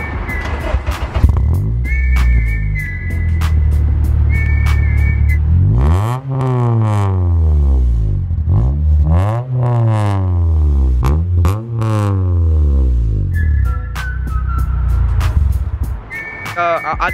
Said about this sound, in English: Oh yeah, I'm running a custom exhaust. It's the Evo Greddy exhaust.